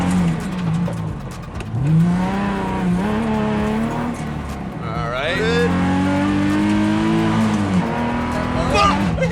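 Revived race cars roar around a track in a head-to-head faceoff, engines revving up and down through gear changes, loud and close, with people talking briefly over the engine noise.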